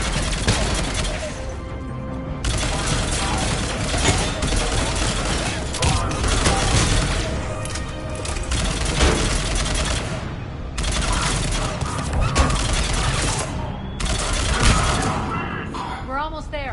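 Sustained turret gunfire in the sci-fi shooter Mass Effect Legendary Edition, a dense, loud barrage of rapid shots and booms that runs almost without a break, with voices calling out under the din.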